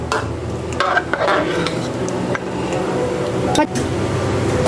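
Mutton and water stirred in a cooking pot, with scraping and sloshing strokes and a faint sizzle underneath, close and moderately loud throughout.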